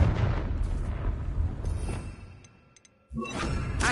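A Confringo blasting spell bursts in Hogwarts Legacy, a loud booming explosion with a rumbling tail that fades into near silence before a second sharp blast erupts.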